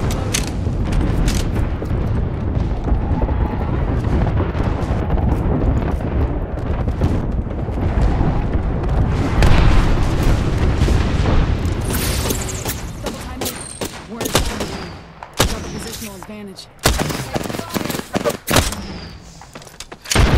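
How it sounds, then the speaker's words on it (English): Airstrike in Apex Legends: a dense, loud barrage of booming explosions and rapid gunfire rumbling continuously, then thinning into sharper separate blasts and shots near the end. "Call into airstrike."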